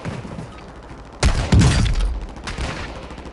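Combat gunfire with an enemy soldier incoming: a sudden loud, close burst of shots and cracks, a second heavy volley just after, then a further burst fading into rumbling background noise.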